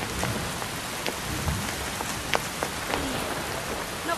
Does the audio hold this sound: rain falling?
yes